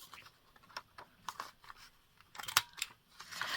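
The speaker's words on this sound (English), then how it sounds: "All right, I'm going to use the big rounder." A large corner rounder punch clipping paper for a handmade journal card, envelope and pocket: a string of close, sharp clicks and crunchy snaps, quiet, with denser punches near the end and no talking.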